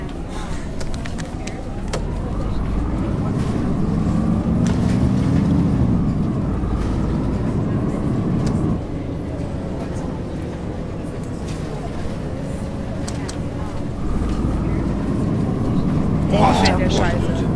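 Solaris city bus with a Voith gearbox and Euro 2 engine in a driving game around Szczecin, a low diesel rumble rising and falling through gear changes while a voice talks over it.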